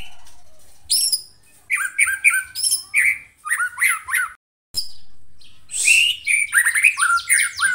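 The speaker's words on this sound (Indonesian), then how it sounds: "ketika bunyi benar-benar trotol ini trotol jahat bang, nembak buka paruh kayak ngeluarin isian" A young male trotol songbird sings loudly and close by, with bursts of sharp squawks and rapid chirping phrases broken by short pauses.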